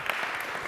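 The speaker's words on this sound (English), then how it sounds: "Round of applause." Brief, fairly soft burst of audience clapping after a panel discussion, many hands blending into an even patter with no talk over it.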